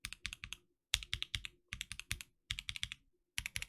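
Typing on a mechanical keyboard fitted with lubed Cream switches, close and crisp clacks in quick clusters of three to five keystrokes with brief silent pauses between the bursts.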